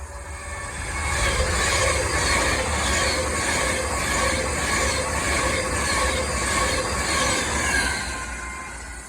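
A passenger train on the West Coast Main Line at Atherstone rushes past close by, its roar swelling and holding steady with a rhythmic clatter of wheels before easing off.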